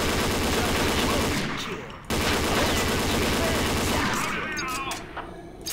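Sustained automatic gunfire from a weapon in the Combat Arms Reloaded shooter game, loud, dense and continuous, with a brief break near the middle before firing resumes.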